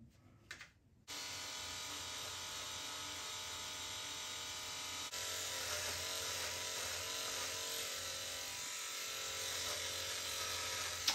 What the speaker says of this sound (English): I'm gonna start with using the trimmer